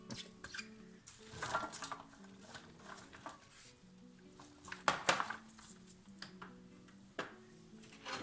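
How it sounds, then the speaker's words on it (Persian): Chopped vegetables are tipped into an oven dish, with scattered clatters and knocks of pieces and utensils against the dish. The sharper hits are spaced irregularly over a faint tonal background. "سبزیجاتمون رو که به این صورت خورد کردیم رو داخل ظرفی که میخوایم داخل فر بگذاریم"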